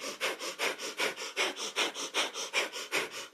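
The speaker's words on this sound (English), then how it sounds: "Just a slow breath of fire or a slow deep breath will do." Kundalini yoga breath of fire: rapid rhythmic nasal breaths, about a dozen sharp, evenly spaced puffs in quick succession, close and clear with no talk.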